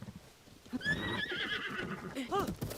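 A horse in Zelda: Tears of the Kingdom whinnies with a rising, wavering neigh and gives a second short call near the end, with hoof clip-clops and someone talking over it.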